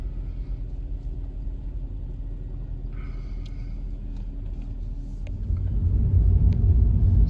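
A 2011 Suzuki SX4 AWD with an ABS fault light hums along on a test drive, a low steady road rumble and engine drone that swells louder near the end, with no voices.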